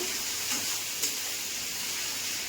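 Tomatoes sizzling in a pan with a steady bright hiss, plus a couple of soft clicks from stirring.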